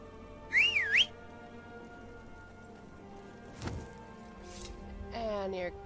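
The whistle power in the Skyrim video game, a bright, rising and falling whistle heard clearly near the start, followed by a soft thud and later a quieter whistled tone against faint game ambience.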